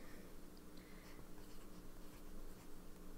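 A fountain pen inked with Colorverse Project 001 Shiny Black scratches softly across paper in continuous handwriting strokes, faint and close with no talk.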